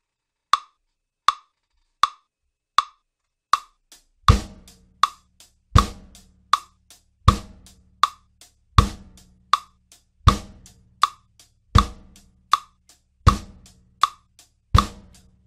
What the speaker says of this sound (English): our bass drum and snare drum are going to line right up on this one